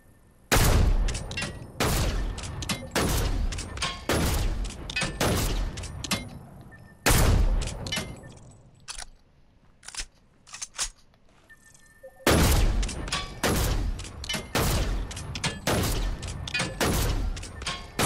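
Loud bursts of video game gunfire in a solo match, dense volleys of shots and booms coming in clusters with brief quieter gaps between them.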